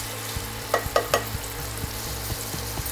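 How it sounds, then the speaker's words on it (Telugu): Onions fry in hot oil in a pan, a steady close sizzle with several scraping stirs of a spoon in a loose rhythm and no talk. "ఆయిల్ తగినంత వేసుకున్నాక ఆనియన్స్ వేస్తున్నానండి"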